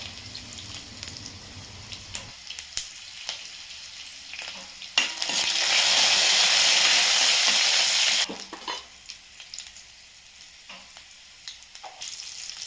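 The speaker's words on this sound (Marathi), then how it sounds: "आता डाळीला फोडणी देते. बघा लसूण टाकली, जिरं, मोहरी, कढीपत्ता आणि हिंग टाकणार." Garlic, cumin, mustard seeds and curry leaves hit hot oil while tempering dal, a sudden loud, sustained sizzle for a few seconds between quieter stretches of clinking utensils and light crackle.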